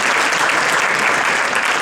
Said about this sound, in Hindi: हमारी आदत है कि आप तालियां वालियां बजाते रहिए।